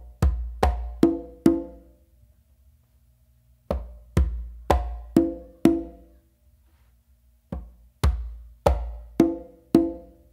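A single conga drum plays a pachanga pattern of basses, slaps and opens in two short phrases separated by a pause, each stroke crisp and close, ringing briefly before fading.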